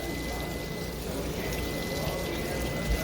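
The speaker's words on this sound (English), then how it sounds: "I'm just running it under cold water because I don't want it to keep cooking" Cold tap water runs steadily over cooked pasta noodles in a sink, a continuous soft hiss and splash at moderate level with no pauses.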